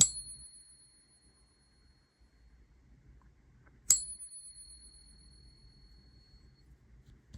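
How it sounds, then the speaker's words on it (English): A genuine Morgan silver dollar struck twice, each strike giving a bright, high-pitched metallic ring that decays slowly over a few seconds against near silence. "So here's a real Morgan dollar we're going to put in there. We're going to hear the same length of sound-ish. It's probably going to ring a little bit longer"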